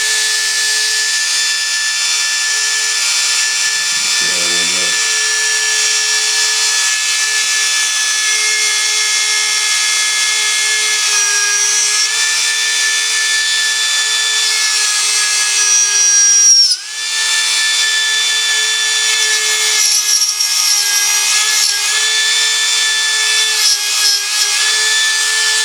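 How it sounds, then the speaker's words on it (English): Drill bit pushed through wood, a continuous high grinding whir with a brief dip midway, close and loud, with no talk. "when I push that drill through there"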